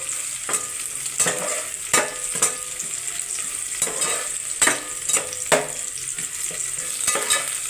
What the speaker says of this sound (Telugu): ఆనియన్స్ అనేవి కొంచెం రెడ్డిష్గా వచ్చినంత వరకు కూడా ఫ్రై చేయాలి